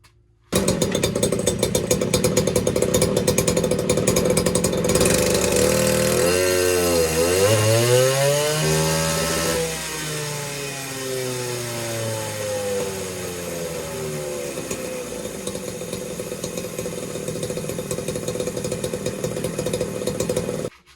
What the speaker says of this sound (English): I could just tell by the way the saw is running.